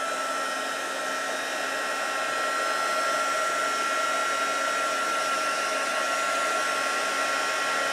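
A hair dryer drying a distress ink background for crafting, blowing as a steady, loud, even whir across the whole stretch with no talk.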